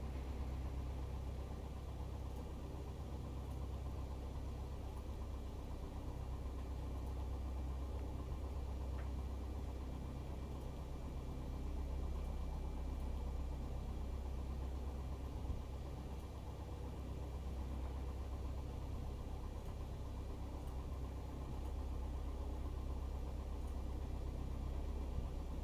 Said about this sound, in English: So I'm not lost behind the engine, the sound of the engine, right?